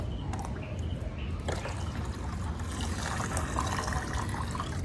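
Scooped water or nutrient solution poured into a hydroponic growing box makes a steady close splashing and trickling that lasts the whole clip, with no talking.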